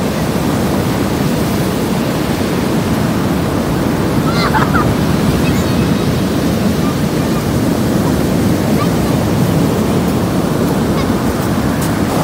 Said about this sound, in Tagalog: Ang lakas ng alon ngayon uli.